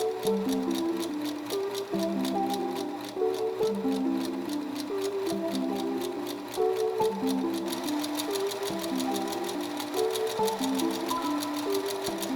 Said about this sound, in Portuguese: Então eu vou costurar bem devagar.